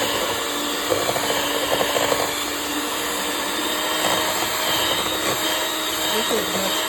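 An electric beater whirs steadily while mixing egg, sugar, butter and vanilla for a red velvet cake, a continuous motor drone with faint clatter from the bowl.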